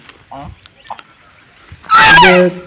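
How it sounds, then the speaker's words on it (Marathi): A group of five or six ducks outside the grounds of a 600-year-old palace in Junnar honk and quack: a few soft calls, then a loud harsh burst near the end. "हपशीमाळाच्या बाहेर आल्याच्या नंतर मला बदक दिसली"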